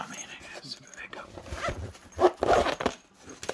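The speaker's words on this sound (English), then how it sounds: "Oh man, I gotta zip it back" A zipper pulled shut on a bag during a Vamvo projector unboxing, two quick rasping pulls near the end, close by, with soft talking around them.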